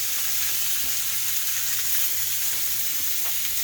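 Porterhouse steak searing in a cast iron pot over an outdoor fire, a steady close hiss and crackle of fat running evenly throughout with no talking.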